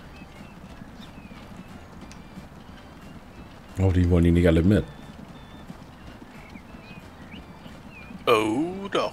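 Horses' hooves clip-clop in the Transport Fever video game, a faint steady patter beneath someone speaking, with two louder bursts of whinnying cutting in.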